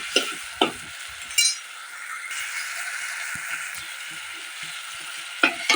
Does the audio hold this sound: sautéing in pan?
yes